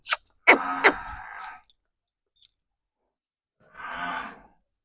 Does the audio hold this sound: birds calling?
no